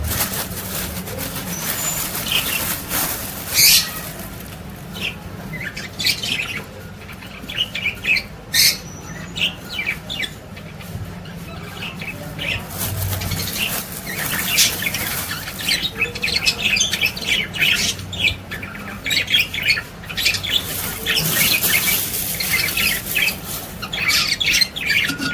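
Lovebird chicks squawk repeatedly in sharp, close bursts, with a steady low hum underneath and no talking.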